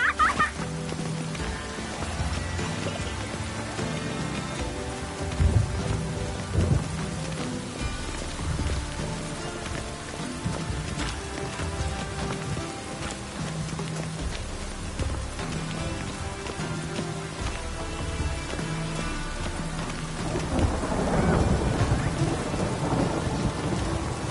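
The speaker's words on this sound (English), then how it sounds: "It's raining. Of course it's going to be damp." Steady rain pours throughout a stormy scene in The Witcher video game, and deep rolling thunder rumbles near the end, with no talk over it.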